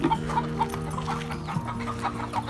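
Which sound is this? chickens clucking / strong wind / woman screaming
chickens clucking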